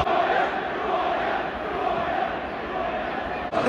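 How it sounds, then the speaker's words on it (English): A large football crowd at Derby roars without a break after a late winning goal in a 3-2 win against Burton. It is a dense, sustained wall of cheering and shouting from many voices. "The crowd's gone absolutely wild."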